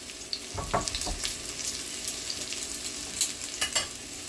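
Flour-dusted beef shanks sear in a hot pan for a ragu, a steady broadband sizzle with a few brief louder crackles and spits, close and moderately loud, no talking.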